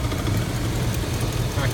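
A 2003 Cadillac Escalade's Chevy LQ9 6.0L V8 with 170K miles idles steadily at close range, a low, even rumble with a fan faintly ticking against its shroud.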